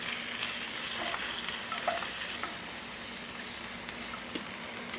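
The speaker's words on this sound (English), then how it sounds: "let's add our broccoli florets" Broccoli florets sizzling in butter sauce in a medium-sized pan produce a soft, continuous hiss with a few faint clinks of stirring.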